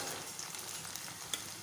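Chili powder going into a hot frying pan gives a steady, moderately loud sizzle and crackle throughout, with a faint clink near the end and no voices.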